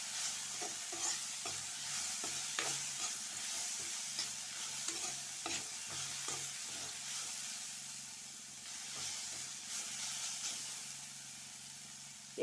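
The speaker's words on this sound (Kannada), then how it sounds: "ಒಂದು 7 ರಿಂದ 8 ನಿಮಿಷ ಇದು ಫ್ರೈ ಆಗಬೇಕು ಫ್ರೆಂಡ್ಸ್" An amla rice mixture fries gently over a low flame, giving a soft, steady sizzle and hiss with intermittent stirring clinks and scrapes throughout, close and moderately quiet.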